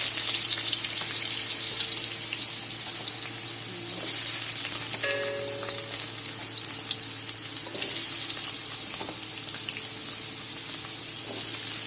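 Potato pieces fry in a pan with salt and turmeric for a Bengali sweet pumpkin dish, a soft continuous sizzle and hiss with a few faint clinks, moderately quiet and without speech.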